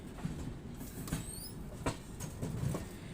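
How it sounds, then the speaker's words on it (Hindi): The New Delhi–Dibrugarh Rajdhani Express pulling into Bareilly Junction, rolling wheels rumbling low with intermittent clanks and a brief high screech of rails, no talk. "हमारी ट्रेन बरेली जंक्शन पे पहुंचते हुए"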